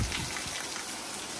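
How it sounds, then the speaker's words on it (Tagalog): Rain falls outside an open window on a hillside home in California, a dense, even hiss of drops hitting surfaces, close and steady throughout. "Umuulan ngayon."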